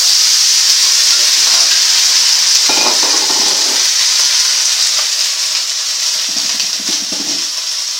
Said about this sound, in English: make sure the wok's piping hot, so it's going to get a bit noisy now. The bean sprouts first